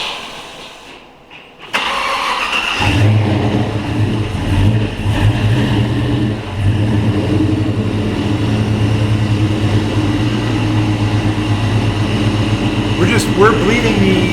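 A Pontiac Safari Wagon with a swapped L83 Gen V V8 cranks and fires after a quiet moment, then settles into a loud, steady idle with a brief rev, while people talk nearby.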